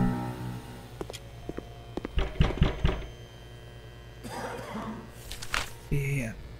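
Knocking in the Toilet Chronicles video game: a quick run of sharp knocks in the middle, with game noises and other sounds before and after.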